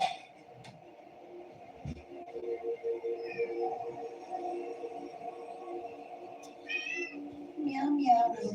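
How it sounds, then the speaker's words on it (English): A cat meows a few times, faint at first then louder near the end, over a soft background hum with some quiet voice. "Meow, meow."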